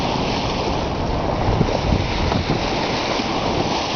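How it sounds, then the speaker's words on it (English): Steady roar of water rushing along the bow of a sailboat on an ocean passage, a dense continuous hiss and wash with wind noise, loud and close throughout with no talk. "And the sound of the roar of the water, at least up forward here."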